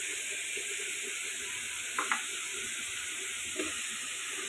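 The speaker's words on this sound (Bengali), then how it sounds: "তো এটা আরেকটু ভাজতে থাকি স্মেল আসা পর্যন্ত।" Red amaranth leaves frying in a pan with salt give a steady, soft sizzle throughout, broken by a couple of brief utensil clicks near the middle and one more toward the end.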